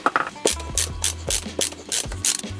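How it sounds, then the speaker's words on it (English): Screws being removed from a Tesla steering wheel, quick clicking ratchet-like turns in short rapid bursts, close and distinct. "So now that I got all the screws removed, I can now carefully remove the buttons."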